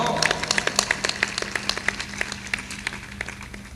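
At a religious satsang gathering, a small audience claps in a light, uneven rhythm of distinct, fairly faint hand claps over low background hum.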